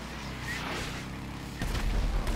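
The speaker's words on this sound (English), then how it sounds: "Oh my god, there's explosions." Explosions in GTA 5 during a biker gang firefight, a dense rumbling roar that swells into a heavier, booming blast near the end, loud and sustained.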